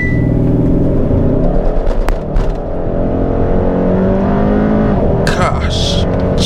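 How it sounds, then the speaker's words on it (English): A 2022 Hyundai Sonata N Line launches hard under launch control, its engine revving and pulling strongly from inside the cabin, with a person's excited voice over the acceleration. "I'm just gonna try a launch control one more time just cuz."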